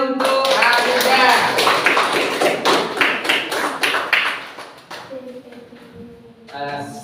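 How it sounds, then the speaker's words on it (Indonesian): A classroom of students claps for a classmate in an English lesson, brisk uneven claps and taps for about five seconds, with voices over them, before fading into talk. "Tepuk tangan untuk Alia."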